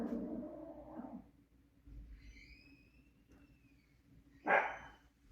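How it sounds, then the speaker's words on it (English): A pet dog indoors gives a few faint barks with quiet gaps between them, the last one a sharper, louder bark near the end, and no one speaks. "So, excuse my dog."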